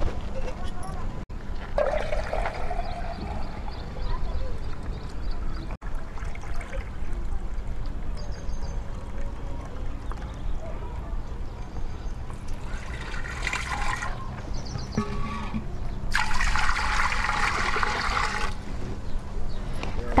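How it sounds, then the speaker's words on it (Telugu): Rice-washing water, about one litre, poured into a pot while preparing lactic acid bacteria culture, heard as a soft steady trickle and splash under outdoor background noise, with a louder gush near the end. "ఇప్పుడు బియ్యం కడుగు నీళ్ళు తీసుకుందాం 1 లీటరు."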